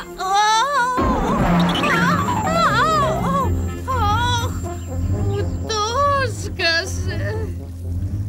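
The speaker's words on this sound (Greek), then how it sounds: "Για δες εκεί ένα πουλάκι." A chicken or rooster clucking and squawking in a series of loud, close, warbling calls over a steady low rumble, with a voice heard briefly.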